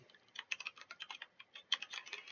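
Quick, light typing on a computer keyboard during a game development stream, irregular bursts of soft clicks, close and quiet with no talking.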